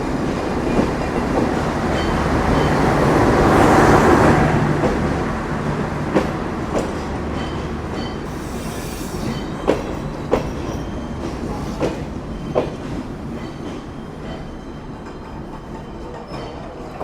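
Down Chitra Express pulling into Jessore Junction late at night: a loud, steady rolling rumble with a swelling roar early on, then repeated sharp clacks of wheels passing over rail joints as carriages go by close.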